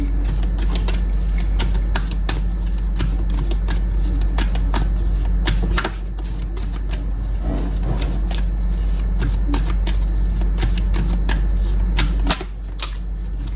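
Tarot cards are shuffled by hand in a steady run of crisp, close riffling clicks and flicks lasting the whole stretch, with no talk over them.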